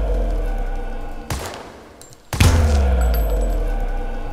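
Gunfire in the video game Daemonical, a loud burst of shots with a sharp crack and shattering impact, then a heavy booming blast with ringing decay, no voices.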